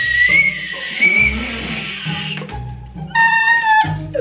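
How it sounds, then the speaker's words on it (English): A person whistles a wobbly, uneven tune in short bursts over a noisy background, with breaks between phrases. "That was the most pathetic whistle I ever heard in my entire life."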